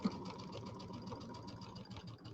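A home sewing machine stitches a quarter inch seam while piecing a Kimberbell Cutie table topper, running in a fast, even mechanical whir with rapid needle pulses, close and steady without talk.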